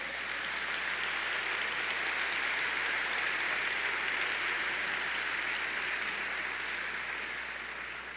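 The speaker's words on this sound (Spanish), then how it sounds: "Dale un aplauso al Señor." A church congregation applauds in a steady, even wash of clapping that lasts several seconds at moderate level and tapers slightly at the end, with no speech over it.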